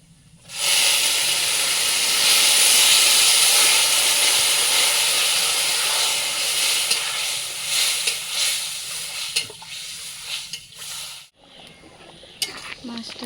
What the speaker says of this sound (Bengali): ভাজা কমপ্লিট, এখন ঝোলের জন্য জল দিয়ে দেবো